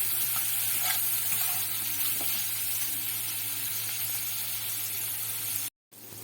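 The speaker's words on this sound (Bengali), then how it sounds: "ভালো করে ভেজে নেব।" Sliced bitter gourd with turmeric and salt fries in hot oil in a kadai, giving a dense, continuous sizzle with faint stirring scrapes. It stays steady and close, with a brief cut near the end.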